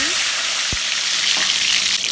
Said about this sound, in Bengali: আমি চুলা ধরিয়ে কড়াই বসে দিয়েছি তার মধ্যে এখন তেল দিয়ে দিলাম তেল গরম হয়ে গেছে আমি এখন ডিমটা দিয়ে দিচ্ছি